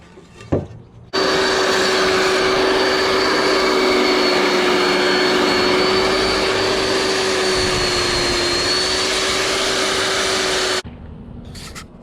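A power sander with low-grit paper works on a wooden pizza rocker, giving a loud, steady, high-pitched whine that runs for about ten seconds. It starts and stops abruptly, with quiet workshop noise before and after.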